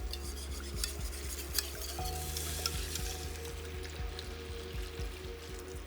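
A spoon stirs red beans and rice in a hot pan. The close, steady sizzle is broken by regular scraping clicks, with a faint musical hum underneath.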